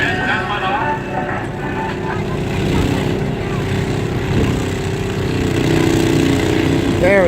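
Tractor launching off the line at a fair's pull track, its steady engine drone rising under crowd talk and commentary, with the roar holding loud and broad through the whole run.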